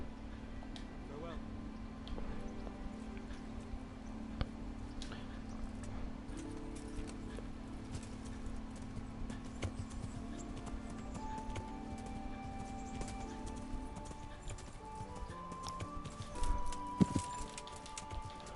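Hooves of a galloping horse clop along in the Kingdom Come Deliverance video game, a faint, quick rhythmic patter under a low steady hum and scattered game sounds, with a rider speaking.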